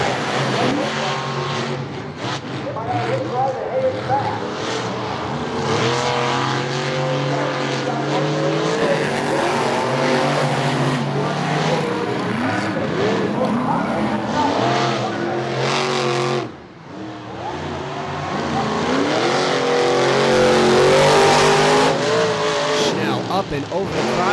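Monster trucks roar around a racing track at Charlotte Motor Speedway, with loud engines revving and surging over a dense crowd and arena din. A commentator talks over the noise.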